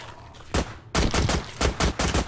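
Turrets fire on zombies in a Minecraft take on Call of Duty Zombies, with one sharp shot followed by a fast run of loud, close, evenly spaced shots.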